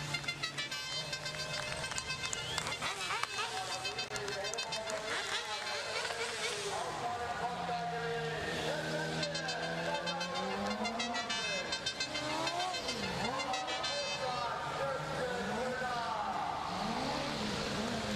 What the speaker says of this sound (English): Hopefully we get a few donuts out of him as well.